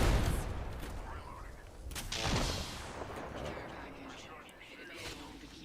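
Video game gunfire crackles in rapid bursts through a busy arena match, a dense spray of shots with a heavier boom near the middle, mixed with game sounds and fading toward the end.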